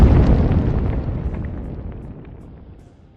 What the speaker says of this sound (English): We always have that explosion outside